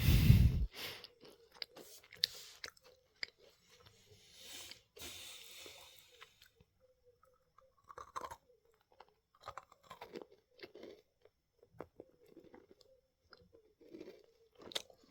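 Someone chewing a Kinder Joy-like chocolate snack up close, soft intermittent crunches and wet mouth sounds with occasional breaths, fairly quiet and irregular, with no talking.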